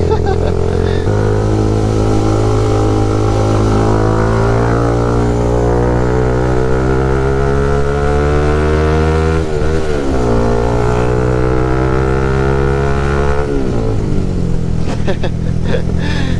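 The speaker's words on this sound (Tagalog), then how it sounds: "galit na galit yung makina tunog 120 pero yung takbo ko nasa 70-80 lang" Bajaj Rouser 180 motorcycle engine revving hard at speed, a loud continuous drone with rising and falling pitch as revs climb and shift, steady throughout under wind noise.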